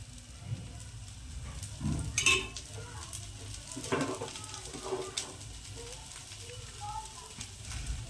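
A dosa frying on a hot pan after a little oil is added, giving a soft, steady sizzle with light utensil scrapes and a few clinks, fairly quiet, while a person talks over it.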